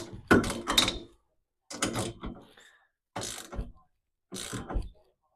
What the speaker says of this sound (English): let's get bolting.